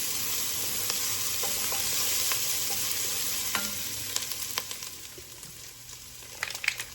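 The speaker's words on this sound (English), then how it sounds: "I'm going to saute that around." Italian seasoning being sautéed in a pot for a creamy one-pot pasta, a steady quiet sizzle with scattered stirring clicks and scrapes growing more frequent toward the end.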